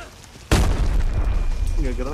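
A sudden loud bomb blast in a battle-royale style video game, one sharp booming onset that rumbles on for well over a second, with excited voices talking over it and game sounds continuing after.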